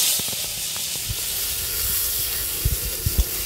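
Cut potatoes fry in oil left over from frying fish, giving a steady broadband hiss with a few soft low thumps near the end.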